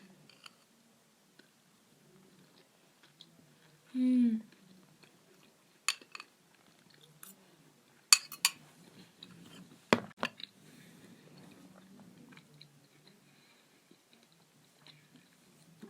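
Soft chewing and biting on a cocoa-dusted dessert, with sparse close clicks and mouth sounds against a quiet background, no talking.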